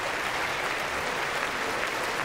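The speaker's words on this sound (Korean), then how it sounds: "미국 의원들이 박수를 칠 수밖에 없습니다" US lawmakers at a joint session of Congress applaud during a speech by South Korea's president, a steady, even roar of many hands clapping without pause, heard from a distance.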